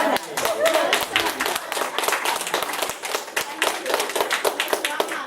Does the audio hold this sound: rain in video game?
no